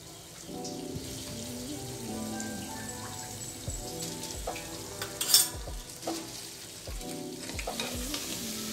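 Mutton seasoned with half a spoon of garam masala fries in a pan for spicy dry Marathi-style mutton, a steady crackling sizzle broken by scraping stirs and clinks, one louder clatter midway.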